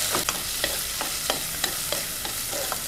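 Chicken gizzards sautéing in oil and ghee give a steady, loud sizzle, broken by regular sharp clicks of a spoon stirring against the pan, with no talking.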